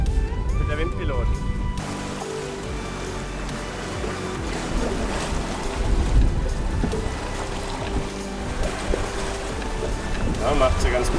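A sailboat on a beam reach under Windpilot self-steering, with gusty rushing air and splashing waves throughout and people talking now and then.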